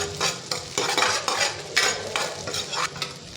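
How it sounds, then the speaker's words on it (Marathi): Onion fries in oil in a frying pan for a restaurant-style gravy, with a loud, steady sizzle and repeated close scraping strokes of stirring in an uneven rhythm. "फ्राय पॅन घ्यायचं आहे त्याच्यामध्ये तेल घातलेलं आहे थोडासा कांदा घालायचा कांदा असा छान भाजून घ्यायचा"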